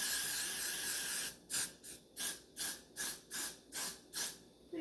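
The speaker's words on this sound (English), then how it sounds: "the side that's got the freeze spray on it" A long continuous spray hiss gives way to a series of about eight short, rhythmic aerosol bursts of freeze hairspray on hair, close and fairly loud.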